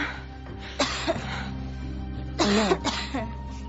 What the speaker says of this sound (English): the water must have shorted out the device and made her start coughing